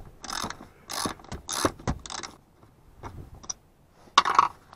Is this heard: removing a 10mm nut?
yes